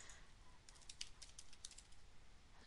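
Quick light keystrokes tap on a computer keyboard in a short burst, faint and close in an otherwise quiet room.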